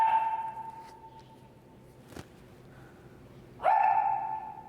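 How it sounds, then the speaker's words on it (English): A little puppy barks twice: one sharp yip at the start and another near the end, close and fairly loud, with a quiet stretch between and no talking. "little puppy barking"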